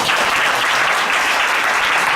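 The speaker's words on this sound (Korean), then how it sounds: "여기 박수 한번 해주시죠." Church congregation applauding during a Sunday morning service at Seongnam Cheongun Church, a steady, dense wash of clapping from many hands, close and loud, sustained throughout with no talking.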